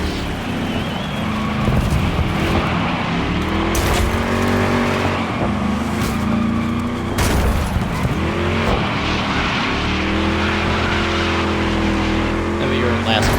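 A Porsche race car roars through a DIRT 5 race, its engine revving up and down in repeated sweeping shifts with occasional tire noise, loud and close throughout.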